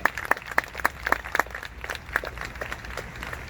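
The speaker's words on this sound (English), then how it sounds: "Give yourselves a round of applause." Audience applause at an outdoor Libertarian campaign bus event in Nevada, a scattered crowd clapping with sharp claps at first that thin out into lighter, uneven clapping.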